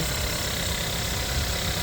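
The petrol engine of a 2012 Volkswagen Passat B7 with a timing chain and 240,000 km on it idles steadily, a close, even mechanical hum with a low rhythmic throb and no voices.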